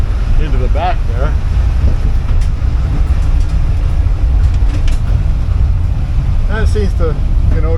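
An air-cooled 1982 VW Vanagon Westfalia engine drones loudly and steadily while the van is driven, a dense rumbling roar throughout with someone talking over it.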